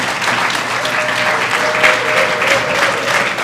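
A graduation ceremony audience applauds in a dense, continuous wash of clapping from a large crowd, steady and fairly loud throughout.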